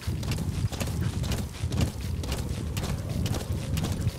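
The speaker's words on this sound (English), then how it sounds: "your horse will run up right next to you and run in parallel so that you can hop on him" Horse hooves pounding in a steady galloping rhythm in Metal Gear Solid V, close and continuous, with dense low thuds running throughout without a break.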